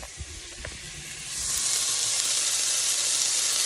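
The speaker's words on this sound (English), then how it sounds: "Alright, look, we're going to saute" Food sauteing in a pan for a dinner recipe: a steady broadband sizzle swells loudly about a third of the way in and holds on, with a few soft knocks near the start and no talk.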